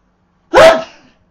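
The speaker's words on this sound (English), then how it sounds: "I'm gonna sneeze." A single sharp sneeze bursts out close and loud, short and alone against silence, from a man during a World War Z gaming session.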